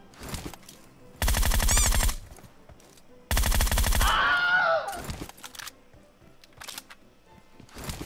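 Loud automatic gunfire in a mobile battle royale game rips out in two long sustained bursts, the second ending in a ringing, warbling tail, with quieter scattered shots around them.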